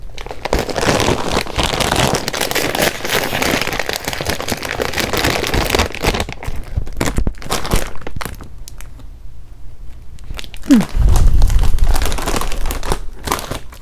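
A bag of Crunchy Dragon Sweet Chili Takis being torn open and handled, with loud, close crinkling and crumpling of the plastic packaging for most of the time, a short pause, then more rustling.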